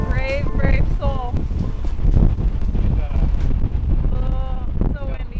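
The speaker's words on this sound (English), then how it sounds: "Oh, so windy." Heavy wind on San Francisco Bay roars and buffets the microphone in a steady low rumble while several people talk and exclaim over it.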